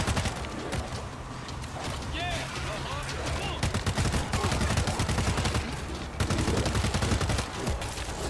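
A mounted turret fires in a multiplayer shooter game, rapid bursts of gunfire crackling near and loud, rising in intensity toward the end, with players chatting over it.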